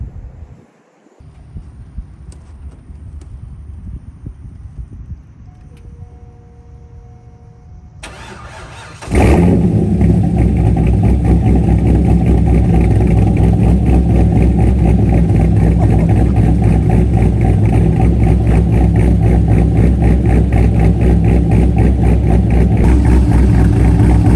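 After some quiet handling noises, the V8 engine of a C5 Corvette with a stage 2 cam and long-tube headers cranks and fires up with a loud burst, then settles into a deep, steady rumbling idle close by.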